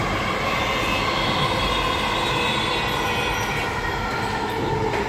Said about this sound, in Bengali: মেট্রো দেখতে পাচ্ছেন, মেট্রো স্টেশনের একদম কাছে